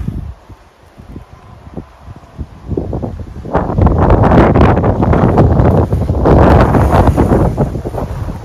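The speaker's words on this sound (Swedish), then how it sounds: "Ja, för det blåser." Strong wind buffeting the microphone, starting as weak gusts with low rumbles, then swelling after about three seconds into a loud, continuous roar that holds to the end.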